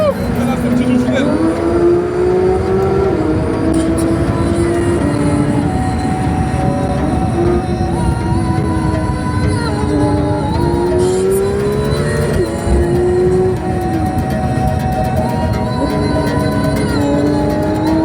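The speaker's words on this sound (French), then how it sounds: "Incroyable cette voiture dans les tunnels." A Porsche 992 GT3 RS drives through tunnels, its engine roaring loudly and continuously with rising and falling pitch as it shifts, the sound echoing off the walls while someone talks over it.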